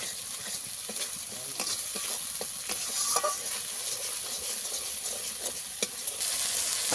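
Chili, turmeric and ginger frying in oil in a pan, a steady close sizzle broken by sharp scraping strokes of stirring throughout, with no talk.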